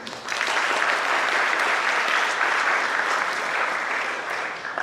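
An audience at a first-year BTech engineering induction program applauds in a dense, sustained wave of clapping that stays loud and even throughout, then tapers slightly at the end.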